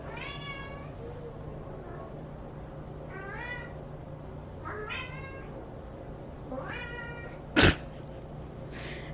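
A cat named Ollie meows several times in short separate calls, close and fairly quiet, with a brief sharp noise near the end.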